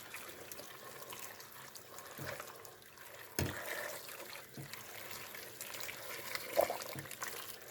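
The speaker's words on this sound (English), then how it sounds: "but now add the liquid, the water." Water trickles and splashes steadily into a pot, a soft continuous pour with a few louder clinks and bumps along the way.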